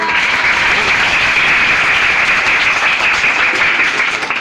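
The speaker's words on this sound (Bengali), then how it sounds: "তালি কই?" A crowd at a youth festival gives loud, sustained applause, dense steady clapping that fills the whole moment without a break.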